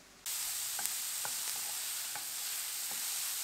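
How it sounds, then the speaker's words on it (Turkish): Vegetables sautéing in a pan for a savory pastry filling, a soft steady sizzle with several sharp clinks of a utensil stirring against the pan, fairly quiet with no talk. "Sebzelerimi yumuşayana kadar kavurdum arkadaşlar."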